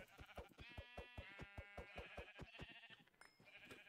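Sheep in Minecraft bleat in a rapid series of short, buzzy, vibrating calls, close and clear with no talking over them.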